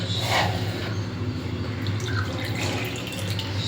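Milk is poured into oats kheer while it is being made, giving a soft, continuous liquid pouring and trickling close by, with faint drips and no voices.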